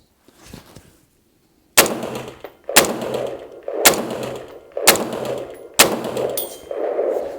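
WS MCR AR180B-style rifle fed from a Lancer Advanced Warfighter magazine fires five loud, sharp shots at an even, roughly one-second pace, each followed by a ringing tail.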